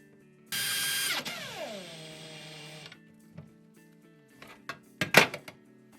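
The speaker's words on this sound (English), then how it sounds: "So now I'm going to take this back off and screw the actual carcass to the wall." A power drill drives screws to fix a corner sink cabinet carcass to a wall, one loud whirring burst that winds down, followed by faint knocks and a few sharp clatters.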